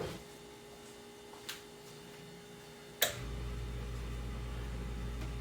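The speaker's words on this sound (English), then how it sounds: "when it kicks on, that's when the pump is on" A radiant floor heating circulation pump switches on after a couple of faint clicks, a sharp click marking the start of a steady low hum that continues to the end, quiet and close, with no talking.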